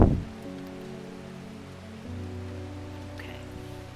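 Steady rain patters in the video game Strange Horticulture, set in Undermere, a soft continuous wash beneath a low droning ambient background that continues evenly throughout.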